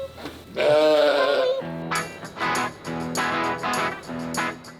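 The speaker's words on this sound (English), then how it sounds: "The sheep, they're very friendly and it's so fun to be around sheep." Sheep bleat in a lambing barn tended by student shepherds: one long, loud, wavering bleat, then a quick series of shorter, harsh bleats close by.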